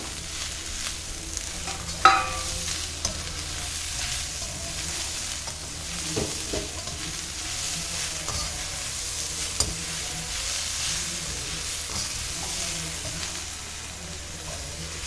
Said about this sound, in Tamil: தக்காளி நல்லா வதங்குற வரைக்கும் நல்லா வதக்கி விட்டுக்கலாம்